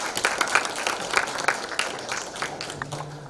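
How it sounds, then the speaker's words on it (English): A conference audience at an international water forum gives a speaker another round of applause, a dense, even patter of many hands at moderate loudness, with a faint voice briefly underneath. "please give him another round of applause."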